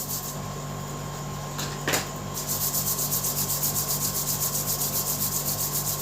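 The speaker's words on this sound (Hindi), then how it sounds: "हाथों को रब कीजिए अच्छे से।" Palms rubbed briskly together during a group eye-exercise session, giving a steady, rhythmic swishing friction that starts after a brief knock and continues close and fairly loud over a low hum.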